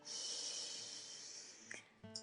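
A slow, deep in-breath is drawn through the nose during a guided meditation, a soft close airy rush ending in a small catch, with no talk.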